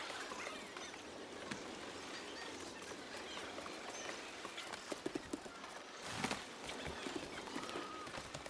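Horse hooves clip-clop steadily in the Assassin's Creed III video game, a faint, continuous patter of hoofbeats with no talk over it.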